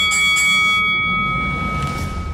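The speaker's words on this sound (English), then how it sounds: "Ring the bell." A bell rings with a bright sustained tone, two quick strikes at the start followed by a long, slowly fading ring, loud and alone.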